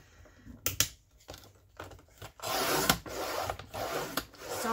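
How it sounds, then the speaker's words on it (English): Cardboard lapbook spines being cut to 2 inches, with quiet rasping, scraping strokes in uneven bursts, close and faint, followed by a longer rough rubbing stretch. "we're going to cut two spines at 2 inches"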